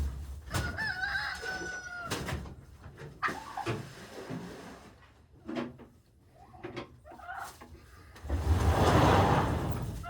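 Chickens on a homestead in February, with a rooster crowing in clear bursts early on and scattered clucks, then a louder rustling, splashing stretch near the end.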